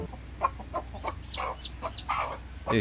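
A hen and chicks clucking in short repeated bursts, with a few higher chirping calls mixed in, close by against a low background hum.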